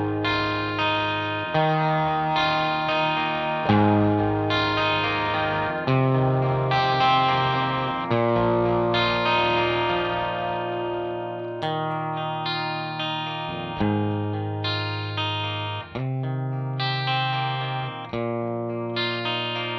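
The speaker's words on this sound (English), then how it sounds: "clean overdrive sound." Electric guitar played through a Franklin Pedals ProDrive V2 overdrive pedal with clipping removed for a transparent, clean overdrive tone, heard as a run of sustained strummed chords and ringing notes, moderately loud and alone.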